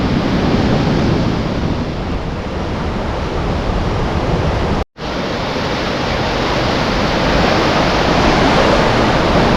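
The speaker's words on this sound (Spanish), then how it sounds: "Mirad todavía la fuerza que lleva el agua." Loud, continuous roar of rushing river water near Benaoján, Spain, steady and close, broken only by a momentary cutout midway.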